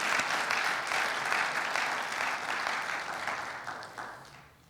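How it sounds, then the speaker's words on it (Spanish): A church congregation claps together in a sustained burst of applause that is loud at first and then gradually fades away. "¿No le das un aplauso a Él?"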